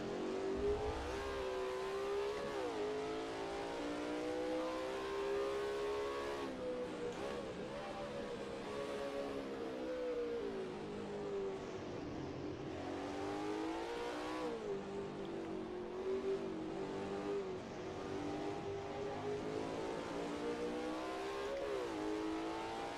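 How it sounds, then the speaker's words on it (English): A Group C touring car's engine in Assetto Corsa, holding a steady high drone with repeated surges and dips as the throttle is stabbed, loud and continuous with no talking. "Couple of stabs at the throttle through there."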